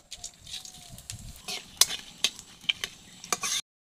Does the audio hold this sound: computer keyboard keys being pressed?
no